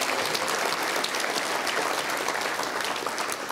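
Civic audience at a city's State of the City address breaking into applause, a full, even roar of many hands clapping continuously, with no talk over it.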